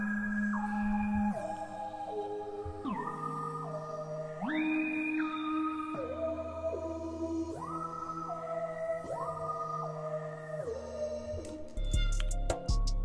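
Sustained synth pad from an Arturia Analog Lab "Both Worlds" preset, with sequenced chords stepping through changing pitches in slow, regular blocks, washed in reverb, ending in a burst of glittery percussive ticks.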